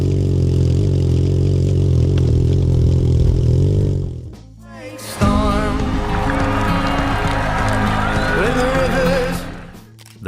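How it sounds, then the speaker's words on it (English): A Triumph T100 parallel-twin motorcycle runs loud and close. A steady, throbbing exhaust drone cuts off, and after a short gap the engine revs back up with a rising, rougher note. "T100's parallel twin engine produced a distinct exhaust note."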